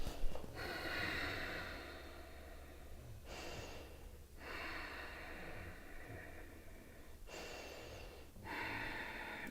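Deep breaths drawn in and let out during a yoga flow, several long airy inhales and exhales in a slow rhythm, close and fairly quiet with no talking.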